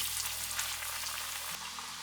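Red cowpea vadas fry in hot oil over a low to medium flame, making a continuous soft sizzle and bubbling, close and even, with a faint hum underneath and no talk.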